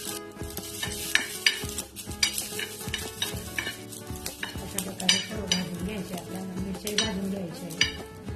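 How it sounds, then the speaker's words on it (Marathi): Green chillies, ginger and ten to fifteen garlic cloves roast in a little oil, crackling and sizzling up close while a spoon stirs and scrapes in a busy, uneven rhythm throughout, with no one speaking. "मी ते सर्व थोडंसं भाजून घेऊ आपण थोडस थोडंसं तेल टाकूया"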